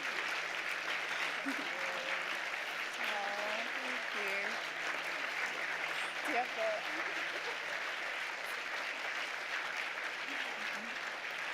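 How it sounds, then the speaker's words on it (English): An audience claps steadily at a 25th anniversary benefit show, a continuous wash of applause at moderate distance, with voices talking over it near the mic. "We're clapping for you."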